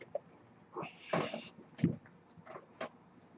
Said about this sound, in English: This cat is literally driving me insane.